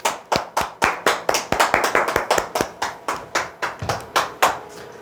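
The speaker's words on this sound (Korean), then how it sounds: "박수!" An audience at a sales lecture claps in loud, crisp, evenly spaced beats that keep a steady rhythm for several seconds, with no speech.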